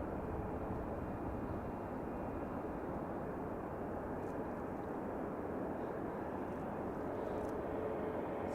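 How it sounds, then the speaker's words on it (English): An Icelandair Boeing 737 MAX 8 jet departs for Reykjavik on a New Year's Eve evening, its engine roar a steady, broad rumble that stays at an even level throughout with no voices. "it's Iceland Air going to Reykjavik, 737 MAX 8"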